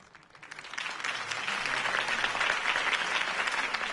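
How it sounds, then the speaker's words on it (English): Applause from a crowd in Telltale's Batman game swells in after a quiet start and keeps going steadily, a dense wash of clapping at moderate distance. "could have heard that applause"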